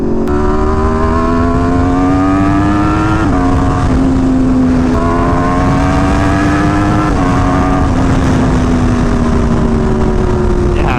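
Motorcycle fitted with velocity stacks ridden fast, its engine loud and close with a strong harmonic whine that climbs through the gears, dropping sharply at each shift around three and seven seconds, with steady wind rush underneath.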